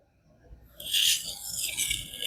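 A knife rubbed on a King whetstone with light pressure, a near silent start then a bright, hissing grinding rasp that swells and continues in short strokes, close up.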